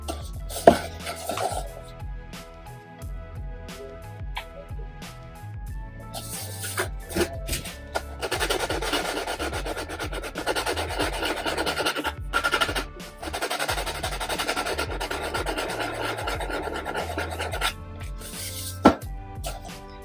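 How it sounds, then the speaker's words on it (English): Rough, rasping sanding strokes with coarse sandpaper on a gourd, levelling one side, coming in a long continuous stretch with a few knocks and pauses, close and fairly loud. "I'm just going to sand on the one side and try and level it up"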